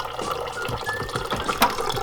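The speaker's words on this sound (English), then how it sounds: "You want to put water in here." Water is poured into a clear cup, a short burst of splashing and filling that stays close and alone, with no talking.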